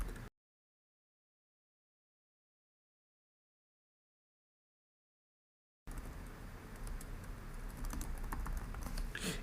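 Random strings are typed on a computer keyboard into a Linux terminal text editor. Near-silence gives way to a few seconds of quick, close clicking keystrokes.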